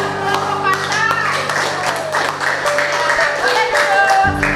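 A classroom of students claps for a group of classmates, a brisk patter of hands that runs under voices talking in the room.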